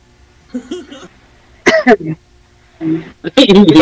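A person with a cough gives short raspy coughs and throat clearing in several brief bursts, close by, between quiet gaps and mixed with a little voice.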